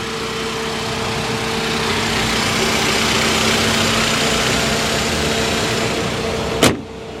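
A 1999 Saab 9-3 SE convertible idles with a steady engine hum and a constant tonal whine, then a sharp click near the end as it is shut off.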